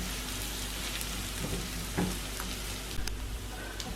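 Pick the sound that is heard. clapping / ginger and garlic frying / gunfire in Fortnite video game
ginger and garlic frying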